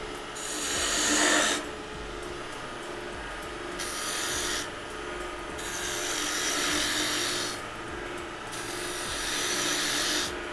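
A hand tool hollows out wood in a furniture workshop, making steady rasping scrapes in repeated strokes, close and fairly loud, with no talking.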